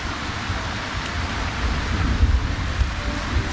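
Steady rain during a thunderstorm on an e-bike ride along a river cycle path, a continuous hiss with low rumbling swells building midway, no voices.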